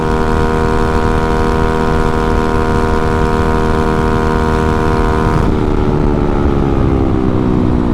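Honda Ruckus scooter with a tuned 49cc engine running flat out near 54 mph, a loud, steady buzzing drone that drops slightly in pitch toward the end as the revs ease.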